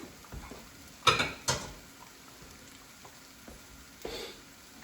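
Falafels frying in a pan of hot oil give a steady, quiet sizzle, broken by a few sharp clinks and taps of a utensil against the pan, with no one talking.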